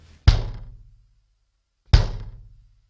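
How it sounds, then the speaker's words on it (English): An untuned bass drum is struck twice about one and a half seconds apart, each hit a loud, deep boom that rings and fades slowly, with no talking. "Now, if I play the drum, it's going to sound like this."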